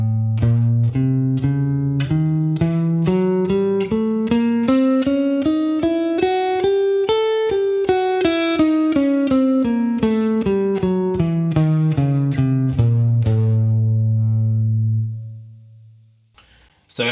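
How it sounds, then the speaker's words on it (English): An electric guitar plays the half-whole diminished scale starting from A, in a steady run of single notes climbing and then descending, clean and sustained with effects, ending on a long held note before silence. "we need to play the half-whole diminished scale"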